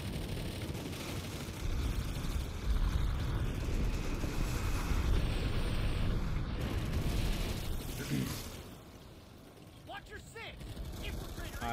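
A Reaper aircraft engine in Planetside 2, a loud, continuous mechanical roar and rattle that holds for several seconds, dips briefly, then swells again, with battle noise and someone talking over it.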